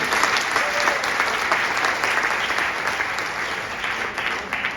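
A large audience at a motivational speaking event in Ramnagar bursts into steady, dense applause that stays loud and even for the whole stretch, with a few faint voices mixed into the crowd.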